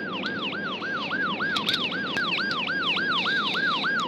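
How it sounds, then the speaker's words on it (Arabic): An ambulance siren arriving, a loud wailing yelp cycling rapidly up and down in even repeated sweeps over a low street rumble, heard alone without talk. "عربية الإسعاف وصلت يا فندم"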